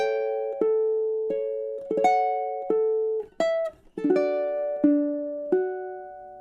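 A solo ukulele plucks a slow phrase from Chopin's Nocturne Op. 9 No. 2, clear single notes and small chords ringing out one after another with brief pauses, close and unaccompanied.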